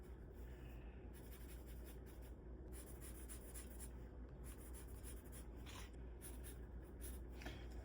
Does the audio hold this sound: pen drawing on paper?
yes